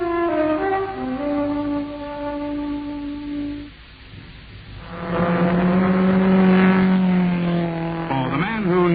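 A car engine revs loudly as a radio ad sound effect, climbing in pitch twice with a short lull between the runs. A voice is heard at the start.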